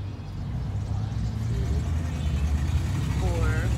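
Traffic on a busy street rumbles steadily throughout, a broad low engine drone with a vehicle passing near the end, while a person talks over it.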